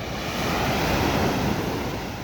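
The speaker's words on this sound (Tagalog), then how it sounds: "malalaki ang alon" Big ocean waves surge at sea around a small boat, a loud, steady rush of broadband water noise mixed with heavy wind buffeting the microphone, with no voices.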